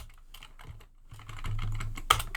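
Fingers tap out HTML on a computer keyboard in a code editor, a close, quiet run of irregular key clicks that grows busier toward the end, with no speech.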